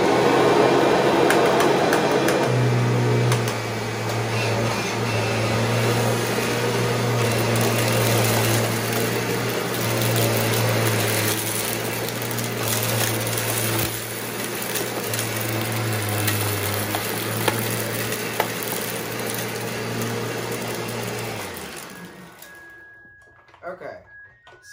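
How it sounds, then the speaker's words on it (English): A freshly serviced Kirby G5 upright vacuum cleaner runs steadily and loudly up close while sucking up flour, oats and small rocks from the floor, with a droning motor hum and scattered gritty rattles before it shuts off near the end. "This is also a newly serviced Kirby G5."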